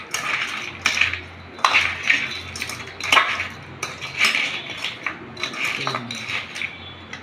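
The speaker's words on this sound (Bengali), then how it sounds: "চামচ দিয়ে ভালো করে একটু মাখিয়ে দিচ্ছি।" A spoon stirs crab with a little turmeric and salt in a metal bowl, giving close, rhythmic clinks and scrapes that keep going steadily.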